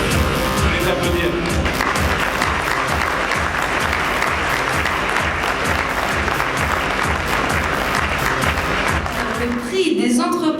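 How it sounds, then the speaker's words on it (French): An audience at an entrepreneurship awards evening applauds the prize winners, a sustained, even wash of many hands clapping close and loud, fading abruptly at the end. "Je vais les applaudir."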